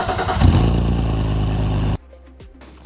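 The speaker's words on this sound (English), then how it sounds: "Just as a quick reminder, this is how the engine started before." A BMW E46 engine cranks for a long stretch before catching, heard as a loud, rapid starter churn that stops abruptly, leaving near silence with a faint click at the end.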